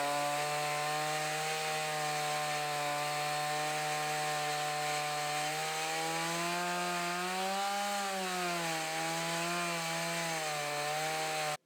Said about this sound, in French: Avec ma nouvelle tronçonneuse, ça va un peu plus vite.